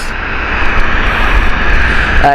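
An Air Transat Airbus A321neo airliner inbound from Quebec at Gatwick Airport gives a steady, loud jet engine roar that holds without break, with no voices.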